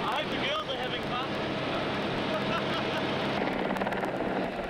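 A helicopter on a joyride to a church gives a continuous whirring rotor drone with faint rhythmic chopping, steady and fairly close, while a voice speaks over it.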